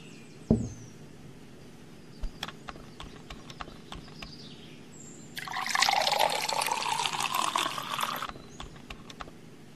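Water being poured for drinking, a loud, close liquid splash and gurgle lasting about three seconds, preceded by a sharp knock and a few light clinks in a quiet room.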